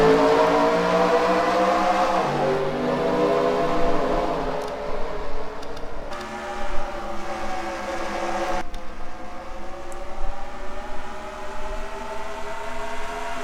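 Race cars at Richmond in a racing video game, a loud sustained engine drone with pitch sweeping up and down as cars roar past, continuous and close, with no talk.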